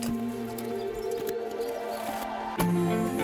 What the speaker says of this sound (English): We'll start by pulling all of this shmoo out so that we can get it nice and clean underneath.